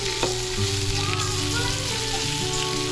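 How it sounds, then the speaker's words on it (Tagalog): Onions sautéing in a pan with occasional stirring, a dense, loud, steady sizzle close up with a couple of soft utensil knocks; nobody speaks. "halu-haluin mo lang, hanggang sa mag-translucent na yung onion"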